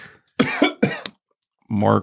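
A few sharp coughs in quick succession, close and loud, followed after a short pause by a rougher throat-clearing sound.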